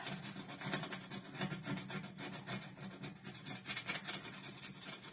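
Burnt-on gunk loosened with toothpaste being scraped off a surface, a steady rhythmic rasping scrape repeated in short strokes, close and moderately loud with no voices.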